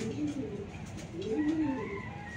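Racer pigeon hen cooing at a pigeon farm: soft, low, rolling coos close by over a steady background hum.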